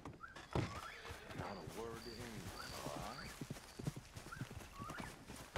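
Horse hooves clip-clop at a walking pace while a horse neighs and whinnies in Red Dead Redemption 2 online, close and clear, with someone talking over the sounds.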